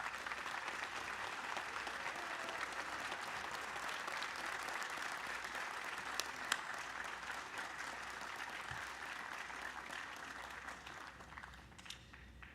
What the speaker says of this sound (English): I would ask everyone here to give him a round of applause